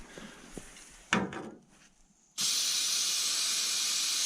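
An aerosol can of starting fluid sprays into the breather of a Franklin log skidder engine after faint clicks and a brief rustle; the spray then comes as a loud, steady, close hiss that carries to the end.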